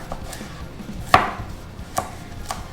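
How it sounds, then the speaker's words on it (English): A dull knife cuts a potato into thirds for fries, with a few crisp chops on a board, one louder clack near the middle and two lighter taps later, close up with faint background noise. "All right, now we're gonna cut it into fries."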